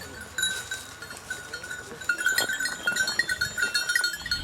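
A herd of goats with kids on a transhumance walk in Franche-Comté, cowbells clanking continuously with scattered bleats, the jangling growing louder and busier as the animals move.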